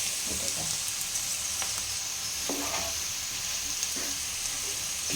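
Semolina sizzles in a hot pan for a spiced, savory semolina pulao, a constant close hiss broken by occasional scraping stirs.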